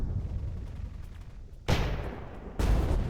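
Tank cannon and gunfire in the WWII strategy game Burden of Command, a low rumbling bed of battle noise punctuated by two sharp, loud blasts about a second apart.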